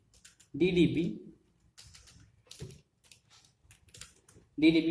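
Computer keyboard keys tapped while entering a spreadsheet formula, a few quick clicks between stretches of someone talking, close and soft.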